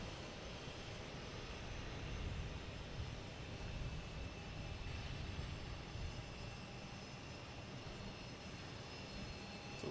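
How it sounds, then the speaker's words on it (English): A Pilatus aircraft arriving at Boston Logan Airport, heard as a steady, broad engine roar at moderate distance that swells slightly and holds without break. "Pilatus coming in from Morristown."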